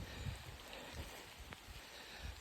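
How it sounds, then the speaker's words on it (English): Heavy rain begins to fall in a churchyard in County Cavan, a steady soft hiss of drops with a few low thuds underneath and no voices. "the rain's starting to come on heavy there"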